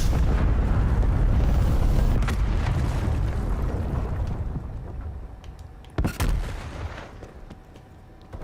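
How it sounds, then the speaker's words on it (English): A cruise missile strike in Call of Duty: Black Ops Cold War: loud rolling explosions and heavy booms that fade over several seconds, followed by a sharp blast near the end. "Cruise missile inbound"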